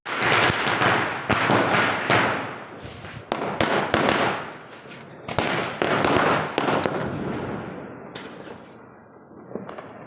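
Firecrackers bursting outdoors during Diwali celebrations: a rapid series of sharp, loud cracks and pops with short gaps, some louder bangs standing out, fading toward the end.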